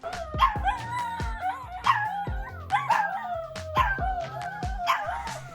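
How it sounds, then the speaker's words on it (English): An Alaskan Klee Kai howls in repeated rising, wavering calls, with short yips and whimpers between them, close and fairly loud with no talking. "Howl at the sirens."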